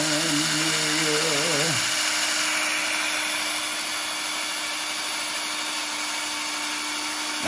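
A power drill bit bores into a wing for a center spar, a loud steady whine that dips in pitch early as it bites, then settles into a continuous grinding drone.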